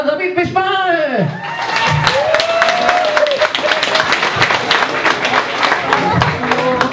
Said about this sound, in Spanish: ¡Un aplauso para David Bisbal!